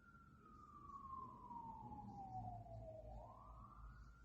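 An emergency vehicle siren wails outside, one long descending sweep that rises again near the end, carrying steadily over low street rumble.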